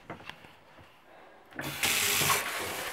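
Water from a tap or shower rinses out a bathtub after cleaning. A few small clicks come first, then a close, steady rush of running water that fills the rest of the moment.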